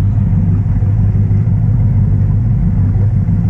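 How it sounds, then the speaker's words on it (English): A boat engine fitted with Hardin mufflers idles in the water at idle speed, a steady low, rumbling drone that holds even and loud throughout with no talking. "In the water now, and just idling at idle speed"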